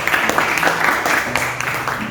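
A class of students applauds a classmate named Tisa, steady moderate clapping filling the whole stretch with a soft murmur underneath.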